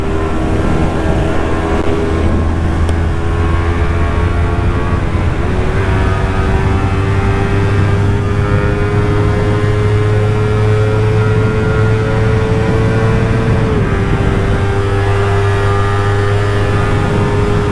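A motorcycle at high speed in fifth gear, accelerating hard along a road near Beşikdüzü: a loud, steady engine drone with rushing wind throughout, its pitch rising slightly midway and dipping near the end.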